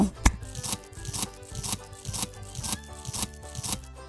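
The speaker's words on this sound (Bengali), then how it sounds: "এবার মাঝারি সাইজে দুইটি পেঁয়াজ কুচি করে নিব" Two medium onions being chopped with a knife on a board make a run of quick, crisp taps at an uneven rhythm, close by, with one sharper knock near the start and no talking.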